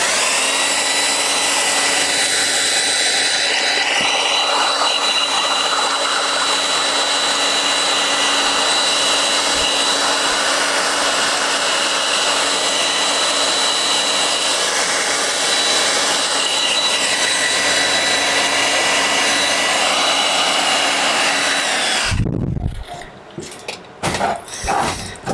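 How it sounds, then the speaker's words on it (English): A handheld blow dryer blasts air across a wet coloring book page, a steady loud whooshing hum lasting over twenty seconds before cutting off, followed by a few brief handling sounds. "I'm quickly gonna give this a little blast of with my blow dryer."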